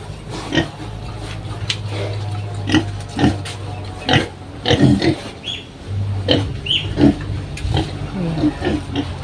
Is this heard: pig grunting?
yes